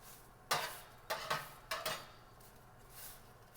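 Crispy tofu pieces are turned over in a metal baking pan, producing three or four soft scraping clinks of a utensil against the tray, close but faint.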